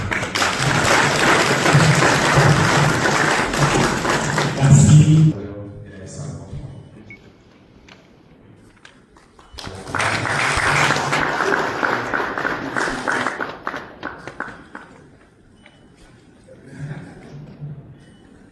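An audience at a book dedication event bursts into applause for about five seconds, fades into a brief pause, then claps again in a second wave that tapers off. A voice speaks briefly between the bursts.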